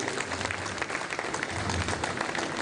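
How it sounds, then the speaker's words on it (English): A large audience at a Law Week ceremony in a dome hall keeps clapping as a judge walks to the podium, a soft, steady, distant wash of applause heard alone. "Please keep clapping until she gets to the podium."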